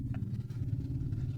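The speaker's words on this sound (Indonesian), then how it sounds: "Traktor ini pada tahap penyingkalan tanah ya teman-teman" A tractor working rice paddy soil during ploughing gives a low, steady engine rumble with a slight clattering texture, close and continuous, with no voices.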